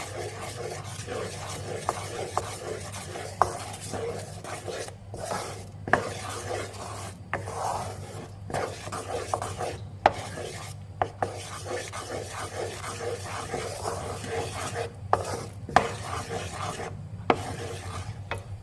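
Repeated scraping and rubbing of a utensil stirring dark chocolate in a pot until it melts, continuous and close, with brief pauses and occasional light knocks.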